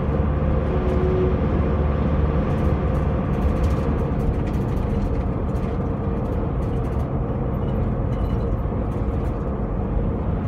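Strong gusting wind buffets a car driving on a sunny day near Tullamarine and Melbourne Airport, a steady broadband roar over low road rumble that holds loud and unbroken throughout.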